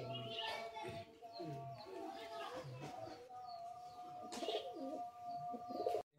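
A tethered pigeon at a pigeon sale gives repeated low, throaty coos close by, mixed with voices talking and faint chirps nearby.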